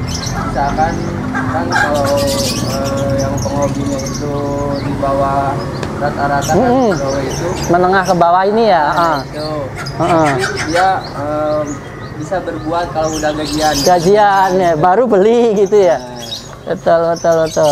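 Caged birds at a bird kiosk chirp, trill and coo in repeated bursts close by, while two men hold a conversation over them.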